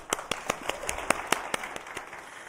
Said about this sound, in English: But once again, give yourselves a round of applause.